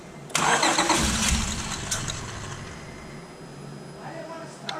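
A 2005 Acura TL with a misfire after a new timing belt cranks over briefly and catches, its engine then settling into a rough idle nearby; a voice speaks faintly over it.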